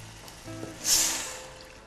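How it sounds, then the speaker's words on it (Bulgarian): Red wine, about 100 ml, poured into a hot pan to deglaze it gives a brief burst of sizzling that swells and fades within about a second, under quiet background sound. "И веднага след това деглазирам с червено вино, около 100 мл."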